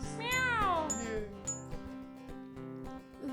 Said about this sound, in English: Cat sound. Meow.